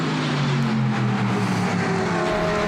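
Race cars lap the circuit during the 2014 Spa 24 Hours. Engines roar steadily at close range, a loud, sustained drone with shifting pitch as cars pass.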